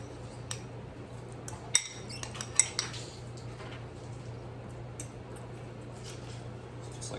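Metal utensils scrape and clink against a dish while garlic is stirred into green beans in a home kitchen, a few light taps and scrapes over a steady low hum, close and quiet.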